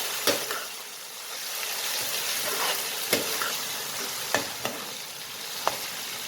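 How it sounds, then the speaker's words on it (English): Spices fry in a pan for a Punjabi-style mixed dhal, making a soft, even sizzle broken by several sharp clicks and taps from stirring. The sound is fairly quiet and close, with no voices. "Let it fry also, 2 minutes."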